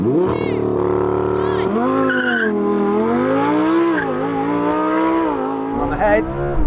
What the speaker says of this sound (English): Let's do the drag race.